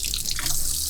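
Water trickles and drips close by from a leaking hot water pipe in an RV, a short steady watery hiss with small drip accents.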